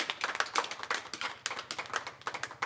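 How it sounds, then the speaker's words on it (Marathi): Applause at a stage programme's opening, after a ceremonial coconut breaking: a steady patter of hand claps from a modest crowd, fairly close, continuing for a few seconds without talk. "जोरदार टाळ्या."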